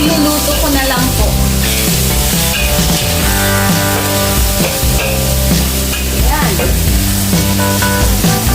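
Breakfast frying in a pan gives a steady, close sizzle throughout, along with occasional stirring and clattering.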